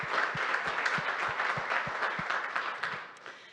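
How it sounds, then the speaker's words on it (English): A demo day audience claps together in a steady round of applause, a dense, even patter of many hands with soft low thumps at a regular beat, tapering slightly toward the end. "Yeah, that deserves a round of applause."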